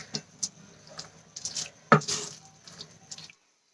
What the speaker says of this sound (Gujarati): અહીંયા બે થી ત્રણ ચમચી જેટલું પાણી એડ કરું છું